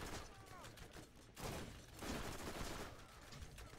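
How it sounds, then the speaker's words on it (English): Enemy gunfire in the Borderlands shooter game comes as rapid bursts of shots, quiet in level, with a sustained louder volley midway and scattered mechanical clicks between. "But he keeps shooting me."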